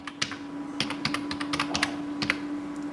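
Quick keystrokes on a computer keyboard as a mobile number is typed in, a close, irregular run of light clicks over a constant low electrical hum, with no voices.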